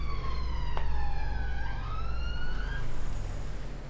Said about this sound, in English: Sorry if you guys can hear the sirens.